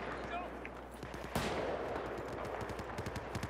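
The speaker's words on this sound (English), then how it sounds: "Someone's shooting some pretty big bullets, taking out the wall." Heavy gunfire in the Battlefield 4 video game, fired in rapid bursts with a sharp impact that tears through a wall, set under game ambience and a faint voice.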